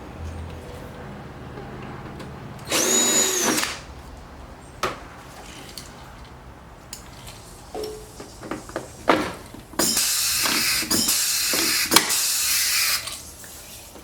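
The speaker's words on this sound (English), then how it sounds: "if you have a pneumatic riveter, rivet gun, it makes your life so much easier" A pneumatic rivet gun sets rivets while a carbon front splitter and side skirts are fitted to a C8 Corvette, with sharp bursts of air hiss and clicks between quieter pauses and handling noises, loud and close.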